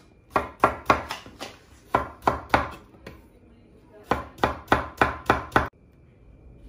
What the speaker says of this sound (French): On va juste prendre les concombres. On va les couper 3 petites.